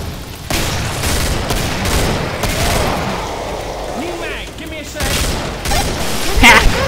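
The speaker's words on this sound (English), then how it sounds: "I'm just gonna keep shooting you in slow motion." Gunfire in the Killing Floor video game, a fusillade of shots with booms running throughout and a louder burst near the end, mixed under game sounds and some talk.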